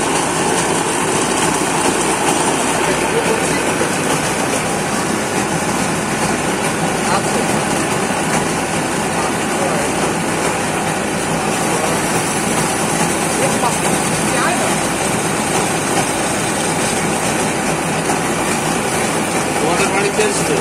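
Polishing machine motor running steadily while old brass and bell-metal utensils are polished, a continuous loud mechanical drone throughout, with people talking faintly underneath.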